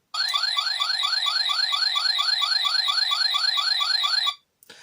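A Power Rangers Time Force Chrono Morpher toy's electronic alert blares steadily, a rapid looping warble of rising tones lasting four seconds before stopping abruptly, then a small click.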